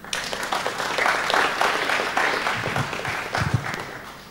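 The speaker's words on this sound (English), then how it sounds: "Yay, a round of applause," An audience at an artist-run art summit applauds the next speaker, a dense, fairly loud burst of clapping that swells and holds, with a few voices and cheers mixed in near the end.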